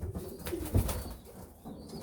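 Young racing pigeons bred for sprint and middle-distance races coo in a loft, with low, throaty murmuring throughout and a louder coo near the middle.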